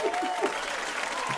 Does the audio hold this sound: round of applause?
yes